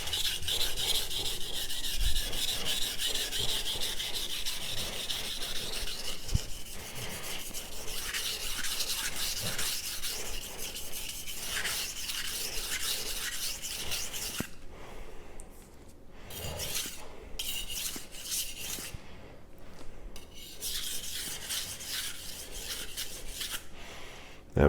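A kitchen knife is drawn across a Sharp Pebble whetstone in long, continuous stropping-style strokes, giving a steady close gritty rasping and rubbing that runs almost without pause, with brief lighter gaps between passes.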